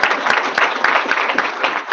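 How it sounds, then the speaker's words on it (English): A round of applause at a school technology meeting, quick hand claps from a small group, close and steady for the full stretch without talk. "So I just want to give Melissa a huge round of applause."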